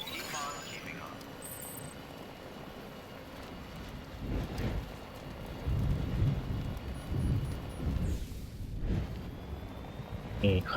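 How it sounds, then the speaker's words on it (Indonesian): Rain falling with deep thunder rumbling in the video game Death Stranding, a steady wash of rain with heavy low booms growing louder near the end while someone talks over it. "Nih kan hujan kayak gini"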